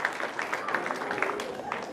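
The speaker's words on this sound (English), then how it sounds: "So a big round of applause to all our Pathshala teachers." Audience applause for Pathshala teachers at a 2016 community board update, a steady patter of many hands clapping for about two seconds with cheers mixed in.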